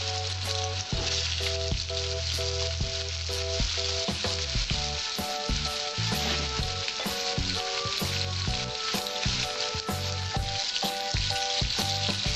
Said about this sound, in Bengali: আলুটা একটু ভেজে নিলে একটু টেস্ট হয়